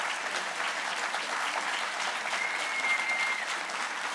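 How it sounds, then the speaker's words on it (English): Town hall audience applauding a panel, a sustained wash of clapping from many hands, moderately distant and even in level throughout. "Give them all a round of applause"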